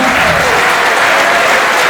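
Dense, loud applause from a large audience at a political solidarity rally, a steady wash of clapping hands filling the whole moment without a break.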